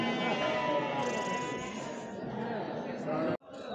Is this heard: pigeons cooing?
no